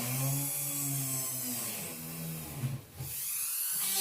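A small hand drill or rotary tool fitted with a fine 1.5 mm bit bores into metal for Mapuche jewelry, a steady whining motor tone with a brief dip and change in pitch near the end, close and alone.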